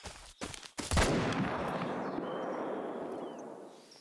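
A single M1 Iwaniec rifle shot in theHunter: Call of the Wild, a loud close crack that follows a few faint clicks and rolls out into a long echoing tail across open terrain.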